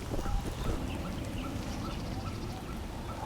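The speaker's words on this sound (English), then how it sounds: "We have the goose." Several geese honk and cackle at close range at Xiang Lake, overlapping calls repeating steadily over a noisy outdoor background.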